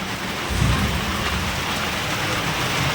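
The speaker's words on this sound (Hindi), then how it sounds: "देखिए बहुत जोरदार मतलब बारिश है दोस्तों" Heavy village rainstorm with a dense, steady downpour on surfaces and a low thunder rumble early on, continuous throughout.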